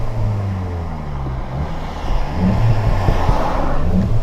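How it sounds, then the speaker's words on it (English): A Volkswagen Golf GTI TCR in sport mode gives a deep, steady exhaust drone that swells slightly louder partway through, heard close from inside the car. "the exhaust note on this car is a lot fruitier than that on the Edition 40"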